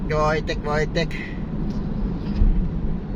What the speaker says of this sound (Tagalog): Traffic na dito, no?